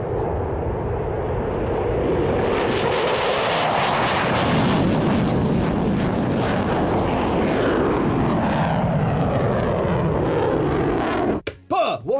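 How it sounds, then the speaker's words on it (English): A loud F-15 fighter jet roars through its takeoff, a broad continuous engine rumble that swells and holds steady for most of the run before cutting off abruptly near the end. "you can look at how an F-15 takes off."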